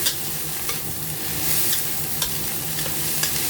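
Constant loud sizzling fills the pan as shrimp fried rice with salted egg yolk and spring onion is stir-fried, a utensil scraping and tossing it in irregular strokes, close by.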